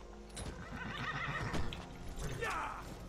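A horse in the video game Skyrim whinnies loudly over a bed of game ambience and clopping hooves, with a rising neigh cresting near the end.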